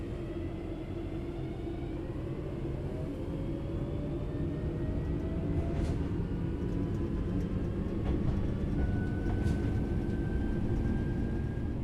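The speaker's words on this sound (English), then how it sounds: "The train will then coast on level ground, and the train will only slow down very gradually." Train coasting on level ground with the throttle at zero in Train Sim World 4, giving a steady, loud low rumble of wheels and running gear with faint rising and falling tonal whines above, unbroken throughout.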